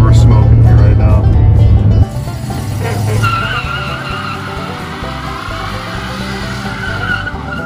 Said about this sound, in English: I think this burnout's too easy.